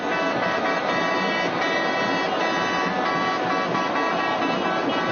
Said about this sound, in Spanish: Puro bocinazo.